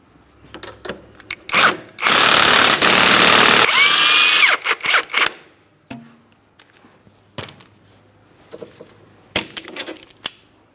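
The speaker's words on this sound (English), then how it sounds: "We'll use our 22mm to remove that nut." Loosening the inner tie rod jam nut on a 2003-2007 Cadillac CTS steering rack with a 22mm wrench, heard as loud close metallic clicks and a burst of harsh tool whir, then scattered clanks and knocks.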